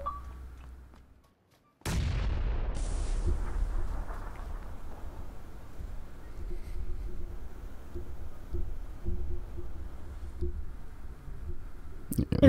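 A grenade goes off in the online game ESO as a sudden loud blast, followed by about ten seconds of sustained rumbling battle noise and scattered gunfire, with a brief quiet gap just before the explosion.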